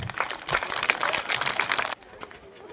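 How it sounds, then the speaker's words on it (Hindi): An audience at a school farewell celebration claps loudly for a dance performance, a dense burst of applause that cuts off sharply near the end, leaving quieter room noise. "डांस के लिए जोरदार ताली हो जाए।"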